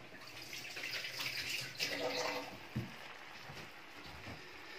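Hands washed under a running kitchen tap while cooking salmon and asparagus curry, a steady close rush and splash of water that swells briefly in the middle, with no voices over it.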